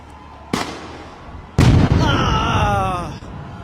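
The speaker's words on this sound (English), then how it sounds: "They throw in a tear gas canister, it blows up, there's that loud flashbang" Two blasts go off at a street protest in Nairobi: a sharp bang, then a louder, closer flash-bang explosion. A ringing, wavering tone and rumble follow it for over a second.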